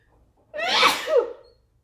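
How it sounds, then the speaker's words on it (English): A single loud, close sneeze with a short breathy lead-in, alone in near silence. "I'm going to sneeze."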